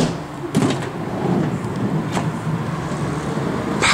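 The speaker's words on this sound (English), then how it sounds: "Power rear doors." Power rear sliding door on a 2002 Toyota Sienna minivan running, a steady motor whir with a latch clunk at the start and another firm clunk at the end, heard close up.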